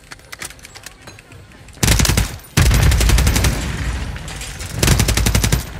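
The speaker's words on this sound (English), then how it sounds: "There's so much shooting everywhere." Rapid automatic gunfire in a video game shootout, dense bursts of loud shots with brief gaps, continuing heavily through most of the stretch.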